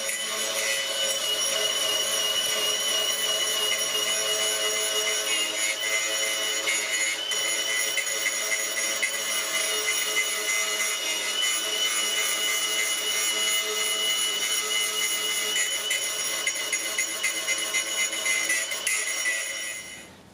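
Grinding down a coilover part for a 2022 11th-gen Honda Civic, a continuous loud, harsh high-pitched whine that holds steady for about twenty seconds before cutting off at the end, with no talking.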